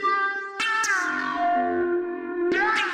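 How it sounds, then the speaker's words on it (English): Repro-1 synthesizer notes with a spooky long reverb. Each tone swells up and then decays again. Two strong note onsets are heard close and loud, and the reverb tails ring out between them with no voice. "I can add spooky long reverb that swells and decays again for each note."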